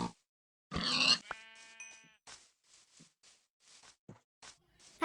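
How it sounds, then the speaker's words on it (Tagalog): Sheep bleat in a survival video game as they are killed, giving a loud bleat then a ringing game chime, followed by a scatter of soft, short grunts and hits. "At meron pang tupa dito kaya pinatay ko na rin to."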